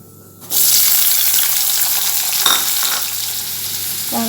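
Sliced onions drop into hot oil already frying fennel seeds for a crab masala, setting off a sudden loud, continuous sizzle that hisses steadily close up, with a brief stir partway through.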